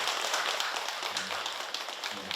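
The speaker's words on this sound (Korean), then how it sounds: "박수 한번 크게 한번 주시고" An audience at a Buddhist temple service in Korea claps, giving a brief, dense burst of applause that holds steady for a couple of seconds.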